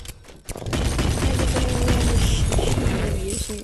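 Dense, loud gunfire in the VR game Animal Company, a rapid crackling barrage with mechanical clatter that starts after a short pause and continues without break.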